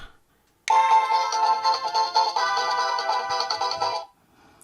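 A bright electronic melody from a Paladone Super Mario star lamp plays steadily for about three seconds, then stops abruptly, leaving near silence.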